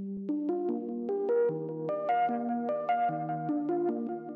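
A soft, warm chillwave synth lead plays a gentle stepping melody over sustained chords, smooth and mellow, with no voices.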